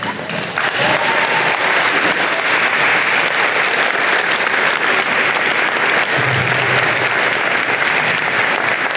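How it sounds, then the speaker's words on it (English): A college engineering convocation audience gives loud, sustained applause, many hands clapping in a dense, even roar that continues without letup. "Give them another big round of applause."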